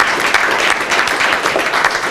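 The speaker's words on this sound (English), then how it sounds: "So I really like to give you a round of applause for that" An audience at a homework-help tutor presentation gives the tutors a round of applause, a loud, continuous wash of many hands clapping with no pause.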